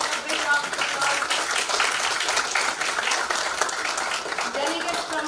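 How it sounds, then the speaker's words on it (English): Audience applause at the inauguration ceremony of the Kathmandu Dialogue, greeting the arriving delegates: dense, sustained clapping from a crowd that carries on steadily through the whole stretch, with voices mixed into the din. "Ladies and gentlemen, a big round of applause."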